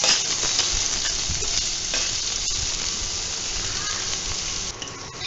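Chopped onions and garlic fry in oil while being stirred for a mushroom soup, a steady, fairly loud sizzle with soft scraping strokes of a spoon throughout.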